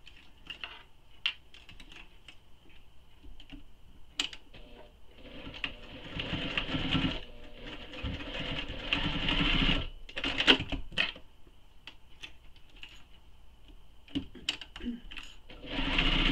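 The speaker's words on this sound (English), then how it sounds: "We will then sew this with the seam allowance given in the pattern." A sewing machine stitches the seam of a Wellington wristlet, running in steady bursts of mechanical whirring with brief pauses and clicks between runs, fairly close and moderately loud.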